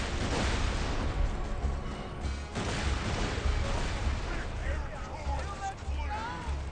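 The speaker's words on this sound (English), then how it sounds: "We are going to just turn around and fire everything. And we're going to throw a grenade." Grenade explosions and gunfire in the video game Borderlands 2, heard as dense rumbling blasts and crackling shots that run steadily throughout, with someone talking over the action.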